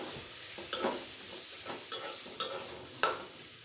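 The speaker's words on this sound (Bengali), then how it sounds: "বড়িটাকে দিয়ে ভালোভাবে নেড়ে চেড়ে দেব" Goat tripe stirred in a spice paste in a pan, a soft sizzle under a few sharp scraping strokes of the spoon spaced about half a second to a second apart, quiet and close.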